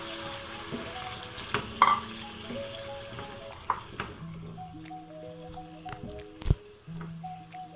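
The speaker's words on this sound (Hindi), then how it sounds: "अब मैं इसमें थोड़ा सा पानी ऐड करूंगी ताकि हमारा चिकन गल जाए।" Chicken masala fries in a pan as water is added, a sizzle accompanied by stirring scrapes and occasional clanks of utensil against pan, fairly quiet and without speech.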